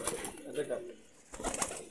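Pigeons coo in bursts, close by, while someone talks over them and a wing flutter or two sounds briefly.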